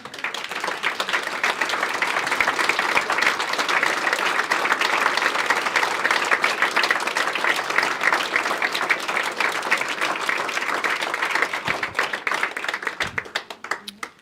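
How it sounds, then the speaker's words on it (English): Sustained applause from a sizable audience at a regional volunteer awards ceremony, dense and steady clapping for several seconds before tapering off at the end. "give everyone listed on the screen a round of applause"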